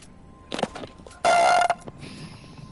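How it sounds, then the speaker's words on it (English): A single big, loud burp lasting about half a second, heard close up during a casual game session with friends, preceded by brief faint sounds and followed by quiet room noise. "Was that a big burp?"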